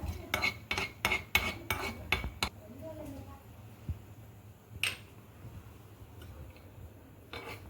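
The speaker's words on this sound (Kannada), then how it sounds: "ಅರ್ಧ ಸ್ಪೂನ್ ತುಪ್ಪದಲ್ಲಿ ಬಾದಾಮನ್ನ ಫ್ರೈ ಮಾಡ್ಕೊಂಬಿಡೋಣ." Almonds frying in half a spoon of ghee for mango kheer, heard as a quick run of metallic spoon clinks against the pan, then sparse clatter over a low kitchen hum.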